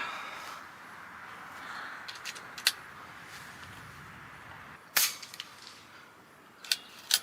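An Umarex Notos G2 air rifle fires pellets outdoors, giving a few sharp, short cracks spaced irregularly over a faint steady background hiss.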